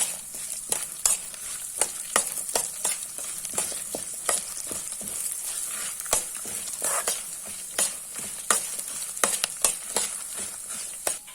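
Grated coconut and turmeric powder are stirred in a hot pan, a ladle scraping and clinking in a quick irregular rhythm over a constant close sizzle of frying, with no talking.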